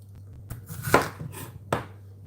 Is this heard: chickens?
no